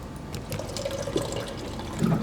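Water pouring in the sci-fi horror video game Soma, a short continuous liquid splash over a low ambient background hum, moderately loud and without talk.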